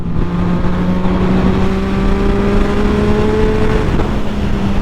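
A Yamaha MT09 motorcycle's engine holds a loud, steady high-rpm drone during a wheelie, the pitch climbing slightly before dipping near the end, with heavy wind rush over it.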